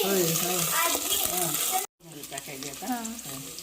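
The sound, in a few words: tomato and onion sizzling while stirred in pan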